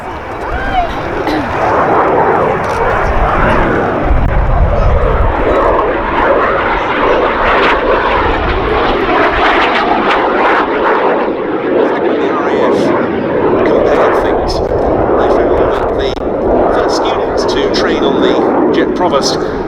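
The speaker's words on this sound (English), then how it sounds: "The Mark I Jet Provost was a very strange looking aircraft indeed." Jet Provost jet trainer making a pass at an air show, a loud sustained roaring engine wash that swells and lingers for the whole stretch, with commentary heard over it.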